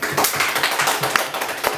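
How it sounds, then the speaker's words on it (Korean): A small studio audience at a Korean radio talk show gives a short burst of scattered handclaps, a few quick uneven claps heard close by. "박수 부탁드립니다"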